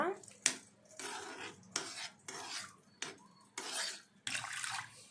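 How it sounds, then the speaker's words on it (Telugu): Rice being rinsed by hand with water in a pan, heard close up as a series of repeated swishing, stirring bursts with brief pauses between them. No one speaks. "రైస్ కూడా యాడ్ చేసుకొని ఇలా వాటర్ అనేవి వేసేసుకొని కడుక్కుంటాను"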